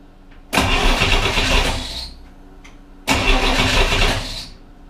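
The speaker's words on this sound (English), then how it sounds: "Okay, starter works." A Chevrolet Corvair engine's starter cranks in two loud bursts of about one and a half seconds each, separated by a short pause, close and clear with no talk.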